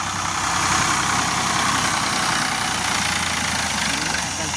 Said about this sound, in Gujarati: જો ટ્રેક્ટર આવી ગયું છે